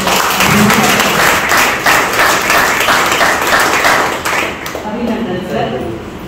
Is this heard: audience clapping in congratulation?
yes